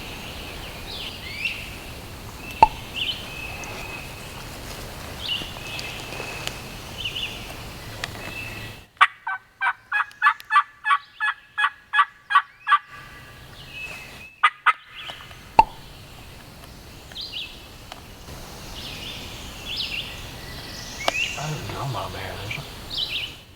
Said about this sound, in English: Oh, there's a freaking turkey.